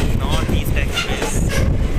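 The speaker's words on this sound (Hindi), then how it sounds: "वहाँ कोई तो ट्रेन है, कोई ट्रेन वहाँ से स्किप कर रही है।" A train rolls past on an Indian railway line, a loud close rumble with wind and rattling wagons filling the whole stretch.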